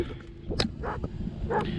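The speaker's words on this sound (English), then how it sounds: "We cut her short just because Tuco's going to keep barking." A dog barks in a few short, sharp bursts over a steady low rumble, fairly close, with gaps between the barks.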